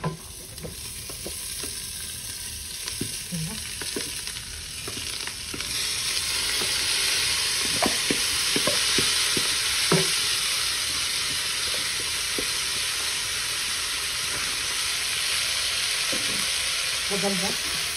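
Rice tipped into browned vermicelli frying in ghee gives a loud, steady sizzle with scraping stirs and a few clacks of a spoon against the pan, close up.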